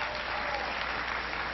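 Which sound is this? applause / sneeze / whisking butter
applause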